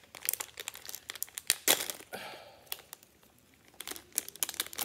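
Plastic wrapper of a dark chocolate ginger bar crinkling and tearing as it is worked open from the back, close and intermittent with bursts of rustling and short pauses.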